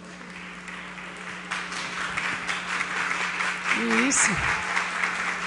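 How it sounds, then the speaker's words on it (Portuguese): Applause from the audience at a formal solemn session honoring pastors and missionaries, building after a brief spoken word and growing fuller and denser toward the end, with a voice and a short tone heard over it. "Agora brilhou com as palmas."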